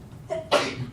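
A single sharp sneeze, a short inhale followed by a burst of breath, close by.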